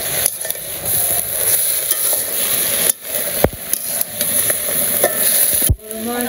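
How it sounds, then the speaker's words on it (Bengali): Vegetables seasoned with salt and turmeric sizzle and fry in a pan as a utensil scrapes and stirs them in repeated bursts, close and loud, with brief pauses between strokes. "আমার সবজি কষানো হয়ে গেছে"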